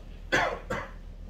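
A quick double cough, two close harsh bursts in succession, fairly near.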